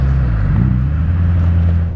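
A 2002 Renault Clio Sport's small square-bore engine blips loudly on a downshift, a steady close-up engine drone with a brief rise in revs from inside the car.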